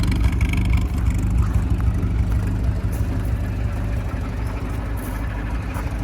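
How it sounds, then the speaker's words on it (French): A classic Triumph TR3A's engine runs steadily with a rumbling exhaust, loud and close, holding an even idle-like drone without pauses. "Il y a un petit bruit d'échappement sympathique."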